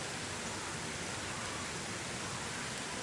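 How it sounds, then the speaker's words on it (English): Steady rain falls throughout, a dense, even wash of broadband hiss with no distinct drops or voices, moderately quiet and constant from start to finish. "It's raining."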